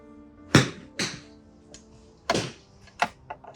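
Golf balls struck during range practice on wedge shots of about 100 yards, a sharp thwack near 0.5 s, another near 1.0 s, then further crisp hits around 2.3 and 3.0 s, moderately loud and close with quiet gaps between.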